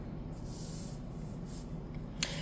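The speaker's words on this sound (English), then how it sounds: "We got some cards that I'm trying to shuffle" Playing cards being shuffled by hand, a soft papery riffling and brushing in several short bursts, close and alone, ending with a sharper snap.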